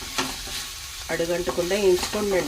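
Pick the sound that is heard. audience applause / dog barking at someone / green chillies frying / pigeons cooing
green chillies frying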